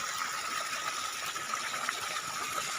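Water rushing hard from a tap fed by a fast motor pump, a continuous, bright, steady gush, close and fairly loud, with no talk.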